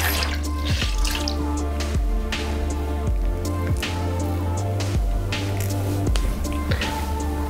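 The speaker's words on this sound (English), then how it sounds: "I'm just gonna use a flannel just to rinse both of them off" Water runs and drips as a flannel rinses skincare products off the face at a sink, with steady splashing and repeated wet drips over a low, constant background hum.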